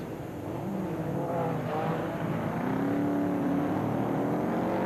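Buggy3500 autocross race cars compete on the Žitavany dirt track in a 1995 A final, engines droning and revving continuously at a distance, building slightly louder toward the end with no talk.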